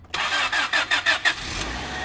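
An old used Honda car engine cranks with a series of rapid starter pulses, then catches and settles into a steady idle, heard up close with no talking.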